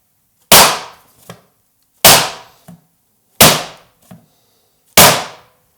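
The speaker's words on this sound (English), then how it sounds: "take the baking sheet, and you need to bang it down on a hard surface 5 times to cause air bubbles to rise" A baking sheet of macarons is banged down on a hard surface: four loud, sharp bangs at an even pace, each followed by a small rattling rebound, with no talking.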